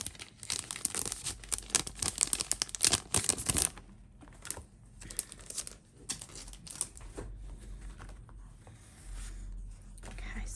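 Plastic wrapper of a Wild Whisper pocket card pack crinkling and tearing open up close, a dense burst of sharp rips and crackles for about four seconds, then softer scattered rustling.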